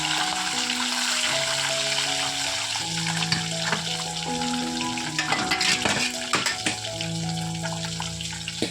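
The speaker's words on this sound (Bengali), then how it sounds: "আর একটা কড়াই যে এখনো মাছ ভাজা চলছে" Fish frying in oil in a kadai, a continuous close hiss mixed with clinks and scraping, while running water and other kitchen noises carry on in the background.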